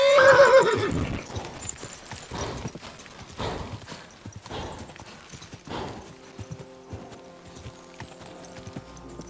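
A horse whinnies loudly in the video game Kingdom Come: Deliverance II, then hooves clip-clop in an uneven galloping rhythm, with faint musical tones near the end.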